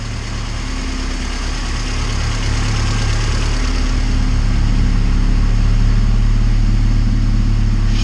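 A Honda CRX with a swapped Honda engine idles steadily and close by, a low constant rumble with a faint higher hum, running smoothly with no voices.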